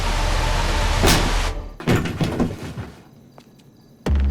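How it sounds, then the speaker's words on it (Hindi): A door is forced open by breaking it during a tense crime-drama scene: a sharp crash, then a cluster of heavy thuds and splintering knocks, and one more loud hit at the end. "दरवाजा तोड़ना पड़ेगा।"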